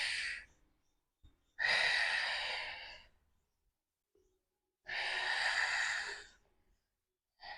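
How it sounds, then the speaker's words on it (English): Slow, deep breaths in and out during a Pilates exercise with weights, two long airy exhalations standing out loud and close against near silence, with a few short intakes between. "We inhale and we exhale."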